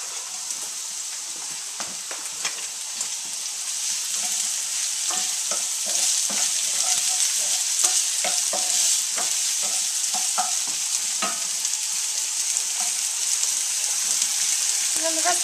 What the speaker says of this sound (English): Who doesn't love the smell of onions cooking in the oil?